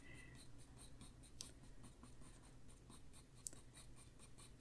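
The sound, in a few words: Inktense coloring pencil on paper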